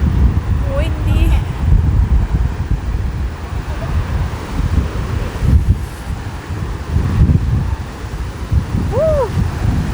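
Strong wind blowing hard beside a waterfall, a loud continuous roar of rushing air and falling water with microphone buffeting, a brief faint whistle-like tone near the end.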